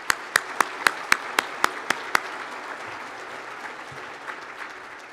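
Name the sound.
audience applause for event sponsors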